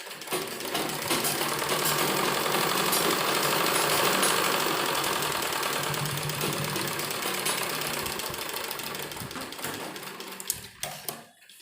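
A sewing machine stitches folded pieces of a bell sleeve together down the middle. Its rapid, even clatter runs continuously for about ten seconds at close range, then slows and stops, with no talk.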